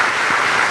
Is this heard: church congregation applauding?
yes